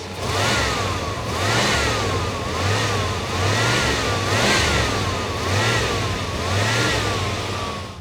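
A 1995 GM engine with a distributor idles steadily in an open engine bay, a loud continuous mid-pitched running note with a faint cyclic wavering throughout, heard alone without talk.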